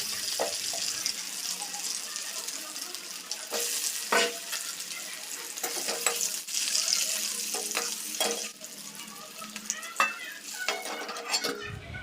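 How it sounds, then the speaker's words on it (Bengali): Potatoes fry in mustard oil in a wok, oil already used for frying eggs, with a soft steady sizzle broken by repeated scraping stirs of a spatula, close and fairly quiet. "ওই তেলেই আমি আলুটাও ভেজে নিচ্ছি"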